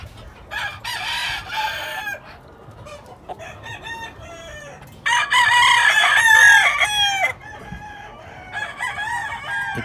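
Gamecock roosters of the favored Ghost line at Rancho Márquez rooster farm crow one after another, several loud, drawn-out calls overlapping at close range, with no talk.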